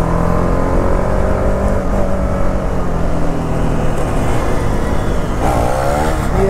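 A motorcycle engine roars loud and close during a wheelie in a drag race between a TVS Apache RR310 and a KTM Duke 390, with a steady, sustained drone throughout.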